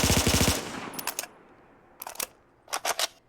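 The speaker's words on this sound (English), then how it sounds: "you god dang have the FN F2000, you spray an extremely fast rate of fire, for especially an assault rifle" Bursts of rapid automatic fire from an FN F2000 assault rifle in a modded Fallout 4 game, a long fast burst followed by short clipped bursts with quiet gaps between them.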